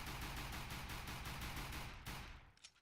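Rapid burst fire from a Glock 18 pistol in a shooter video game, a dense continuous stream of loud shots lasting about two seconds before cutting off, followed by a brief faint click.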